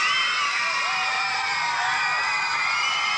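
A studio audience erupts in steady, loud cheering, whoops and applause that hold at full level without a break, dense and close throughout.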